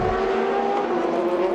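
Aston Martin GTE race cars racing at the Circuit of the Americas, a loud sustained engine drone with steady high-pitched tones, no voices over it.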